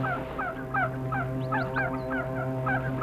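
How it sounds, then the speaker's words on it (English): A flock of geese migrating north, their honking calls repeating in quick overlapping bursts over a steady low background hum, fairly close and continuous. "Only sign of animal life was the geese migrating north for the summer."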